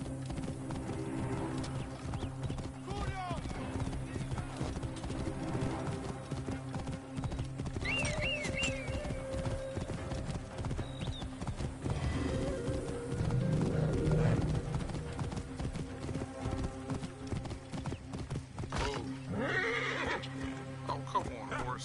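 Horse hooves clip-clop steadily through Assassin's Creed Origins gameplay, with a whinny or two breaking out along the way, mixed under game music and voices and someone talking.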